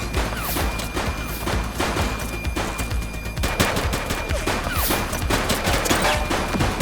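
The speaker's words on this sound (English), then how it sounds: "Shots fired!" Sustained gunfire in a police simulator game: dense, rapid volleys of shots crackling without pause, loud and close, with scattered sharper bangs and crashes mixed in.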